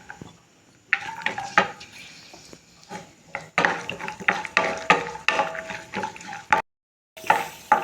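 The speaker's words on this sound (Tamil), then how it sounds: "கொஞ்சம் நெய் சேர்த்து முந்திரி பருப்பை வறுத்துக்கலாம்." Cashew nuts frying in ghee in a pan, heard as bursts of close clattering and scraping from stirring over a light sizzle, with one brief silent gap near the end and no speech.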